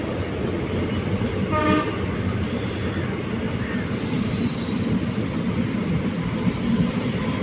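A train on the Erode to Mettur Dam line passes overhead with a steady, low rumbling roar, with a brief horn-like toot partway through; no one speaks.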